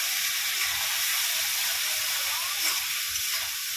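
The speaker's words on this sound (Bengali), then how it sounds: "এবার মশলাটা ভালো করে কষিয়ে নেব।" Spice masala for a rohu fish curry with fenugreek sautés in a pan, making a loud, constant hissing sizzle up close with faint stirring underneath and no talking.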